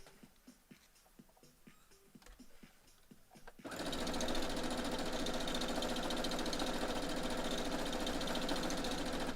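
A sewing machine stitches pixel quilt pieces, a few scattered clicks and taps first, then a steady, fast whirring run of the motor and needle that holds loud and even to the end.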